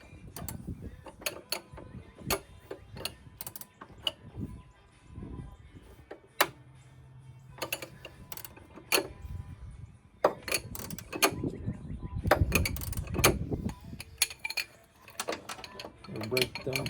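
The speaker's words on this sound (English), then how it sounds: "I'm just gonna use a 14mm and a breaker bar." Sharp metallic clicks and clunks of a 14mm socket on a breaker bar working the upper control arm bolts during an SPC control arm install, scattered irregular knocks and ratchety taps up close, with a short low whir midway.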